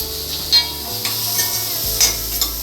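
Sliced onions and cashews sizzle loudly in homemade cream in a pan while cooking restaurant-style paneer butter masala, a continuous close frying hiss broken by a few brief stirring scrapes.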